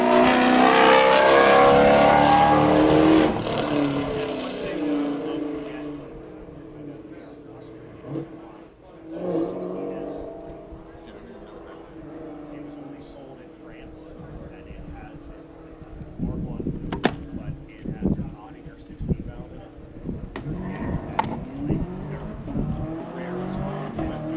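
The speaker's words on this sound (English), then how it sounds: "followed by Kirk Barber in the Toyota PE Motorsports GR Supra" A Toyota GR Supra race car at a race at NOLA sweeps past with a loud roaring engine that fades into the distance, then other race cars are heard further off, while commentators talk throughout.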